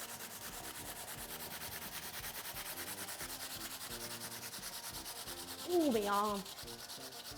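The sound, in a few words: grating raw potato on a grater for rosti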